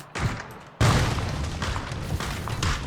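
A grenade explosion in the video game PUBG hits with a sudden loud blast, then a dense, rumbling roar that holds steady for the rest of the moment.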